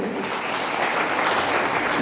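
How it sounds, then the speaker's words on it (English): An audience claps for Chloe at a music prize-giving, with steady, dense applause at a moderate level and no voices over it. "Please clap for Chloe"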